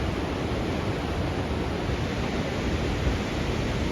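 A Himalayan waterfall and the Gori Ganga river roar as a dense, steady, broadband rush of water, loud and unbroken throughout with no voices.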